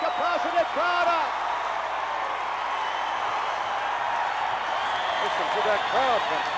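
A capacity crowd roars continuously throughout a wrestling arena during a televised pro wrestling show, with a dense wash of cheering and applause, while an announcer's voice rises over it several times.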